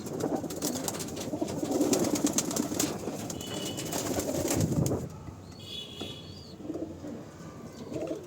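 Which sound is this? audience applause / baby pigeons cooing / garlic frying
baby pigeons cooing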